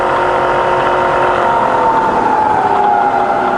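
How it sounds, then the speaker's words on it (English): Spindle of a Bridgeport milling machine running at 300 RPM: a steady, fairly loud mechanical whir with a constant mid-pitched hum that holds even throughout, with no voices. "now we're running at 110 RPM. So all the way up to the top. That's 300 RPM."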